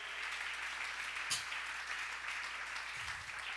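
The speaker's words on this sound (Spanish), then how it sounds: "Dale fuerte esas palmas al Dios de la gloria" A church congregation claps along steadily during a Spanish-language sermon, a continuous wash of many hands heard at moderate distance with no pauses.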